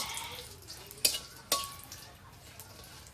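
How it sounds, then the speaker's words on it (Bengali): Dried red chillies frying in a pan over a village stove, a faint low sizzle broken by two sharp clinks of a utensil against the pan. "শুকলা মরিচ ভাজা ভাজা হয়ে গেছে"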